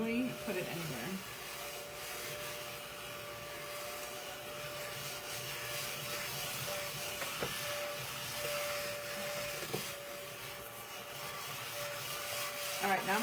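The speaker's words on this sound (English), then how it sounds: "now I'm going to dump this because I want to vacuum up that" A vacuum cleaner runs continuously and close for the whole stretch, a steady whining drone with occasional scraping and bumping as it is moved about.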